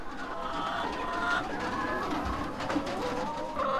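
Chickens in a crowded poultry coop in a village near Nairobi, Kenya, keep up overlapping clucks and soft coos, a busy steady flock sound heard close and without speech.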